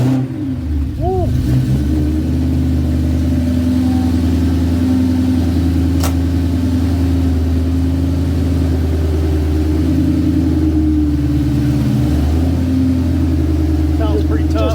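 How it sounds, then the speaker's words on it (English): A V8 street car idles steadily with a deep, throbbing note through 3-inch Flowmaster mufflers fed by full-length tube headers, loud and close, with people talking over it. "Sounds pretty tough. Just a nice street car. Got 3-inch Flowmasters on it."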